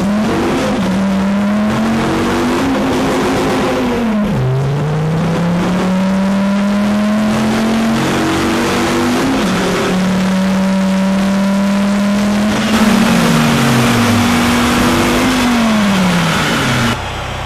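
Car engine on a Mustang dynamometer at a community college, revving loudly through repeated rising pulls, each climb ending in a drop before the next run, steady and close with no talk.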